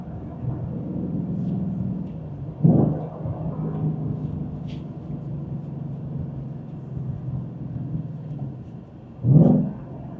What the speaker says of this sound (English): It blips the throttle for you.